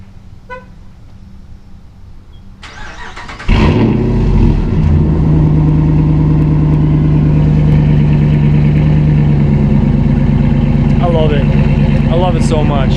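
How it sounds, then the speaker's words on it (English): A 2014 Hemi truck with its muffler and resonator deleted cold-starts after a few seconds of quiet, catching with a loud roar and settling into a steady, heavy, rumbling high idle close by. "cold start, Hemi."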